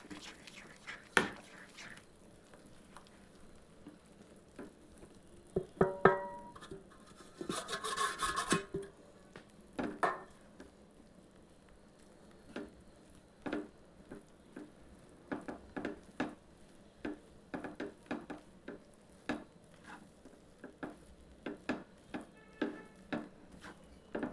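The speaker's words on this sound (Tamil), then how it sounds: "இந்த மாவை வறுத்த மாவை சேர்த்து கலந்துக்கலாம்" Repeated scraping and rubbing of a utensil against a pot as roasted ragi flour is stirred into hot water, uneven strokes continuing steadily, fairly quiet with faint background noise.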